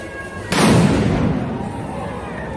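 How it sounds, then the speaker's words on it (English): A sudden loud blast from a bomb thrown at a federal courthouse during a riot bursts out after a short quiet stretch, followed by a long rumbling, crackling decay that slowly fades outdoors. "Rioters threw a bomb at the front of the Portland Federal Courthouse."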